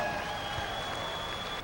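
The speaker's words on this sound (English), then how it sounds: "Folks, let's give our 95 Superstock drivers a nice round of applause." Crowd applause rises from the stands at a 9500 Super Stock tractor pulling event in Louisville, Kentucky, a moderate, steady wash of clapping heard at a distance with a faint tone running underneath.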